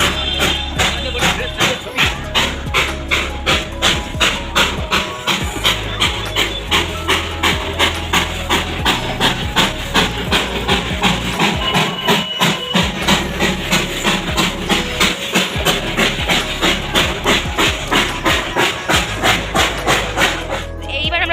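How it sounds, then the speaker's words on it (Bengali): A steam-hauled toy train of the Darjeeling hill railway chugs past with loud, steady rhythmic chuffs that keep an even beat throughout; people's voices can be heard faintly underneath. "এখানে টয় ট্রেন আসছে অলরেডি"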